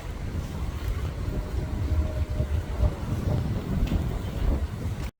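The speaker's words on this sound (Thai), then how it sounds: "ได้ยินเสียงลมไหมคะแฟนทางบ้าน" Wind gusts across an open rice paddy at planting time, a broad rumbling buffet that blows continuously against the microphone for several seconds with no talking.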